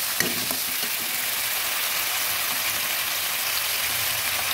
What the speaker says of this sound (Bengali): আদাটা কিছু ভাজা হয়ে আসছে